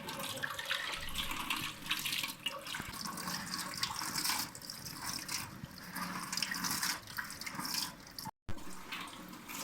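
Fenugreek leaves are rinsed under a running tap for potato and fenugreek curry, a steady, close stream of splashing water that holds almost unbroken throughout, with a brief cut near the end.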